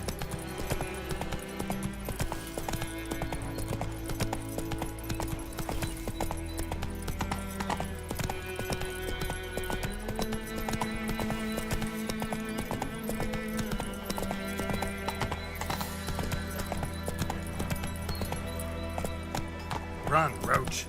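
Clip-clop hooves of Roach, the horse in The Witcher 3: Wild Hunt, beating steadily through the whole stretch, blended with dense game music and occasional voices.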